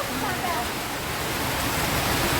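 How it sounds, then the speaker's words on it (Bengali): Steady rain pours down during an evening of dark clouds, a dense, even hiss of water that fills the whole stretch without a break. "আর মেঘ বৃষ্টি কিন্তু কি মেঘের কালার আল্লাহ সুহান আল্লাহ বৃষ্টি হচ্ছে"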